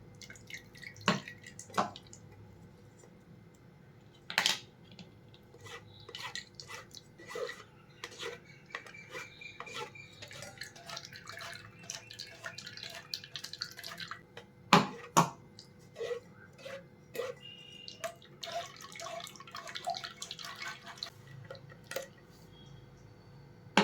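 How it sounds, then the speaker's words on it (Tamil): Blended tomato for a tomato rice dish pushed through a metal sieve with a spoon, giving steady scraping, clinking and dripping sounds close by, with no talking. "இந்த தக்காளி தான் நம்ம வடிகட்டுறோம்"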